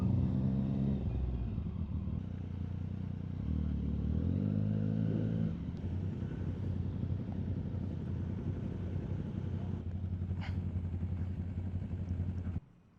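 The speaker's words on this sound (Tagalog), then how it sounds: "Pinapaano talaga yung motor ni Bert, pinapa-overheat eh" A motorcycle engine runs steadily during a long group ride, the bike suffering from overheating; a continuous low rumble with shifting tone, no voices, fading abruptly at the end.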